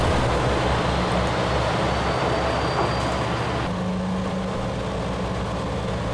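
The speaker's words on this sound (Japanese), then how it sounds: "新宿行きの普通列車が先に発車します。" A local diesel train pulls out of Izumo-Inari station. A steady low engine rumble and drone carries throughout, and its tone shifts partway through as the train moves off.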